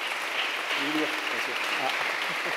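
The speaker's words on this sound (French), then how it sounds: "On peut l'applaudir bien fort." Applause breaks out for a trophy winner at a French business diversity awards ceremony, a fairly soft, even patter of clapping heard at a distance with some voices underneath.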